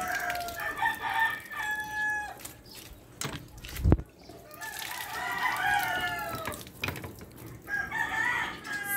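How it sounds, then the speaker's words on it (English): Chickens in a backyard vegetable garden, with a rooster crowing several times and softer clucks between the crows, heard moderately close over faint background noise and one sharp thump midway. "Here's our little chickens."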